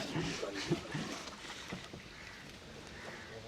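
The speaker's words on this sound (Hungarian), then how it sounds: "mert akkor könnyen kimegy a csónak az egyensúlyból. Nem akarunk elsüllyedni, de tényleg amúgy eléggé mozog" A small boat rocks on the Kerala backwaters, with low, steady water lapping and soft creaks beneath faint wind and background murmur.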